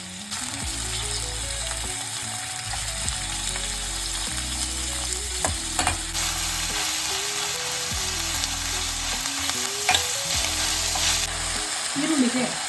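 Onion chutney ingredients, onion, garlic, ginger, curry leaves and Byadgi chillies, frying in a pan, with a steady close sizzle and repeated stirring scrapes throughout, no voices.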